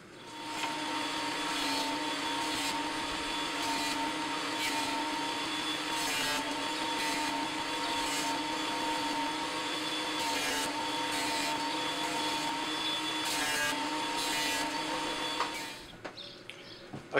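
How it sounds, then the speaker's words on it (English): A wood planer thins a piece of wood in one steady pass, a loud continuous motor whine with a high tonal hum that runs unbroken for about fifteen seconds and then cuts off, leaving a few faint clicks. "in one pass through the planer, that went from much too fat to slightly too thin"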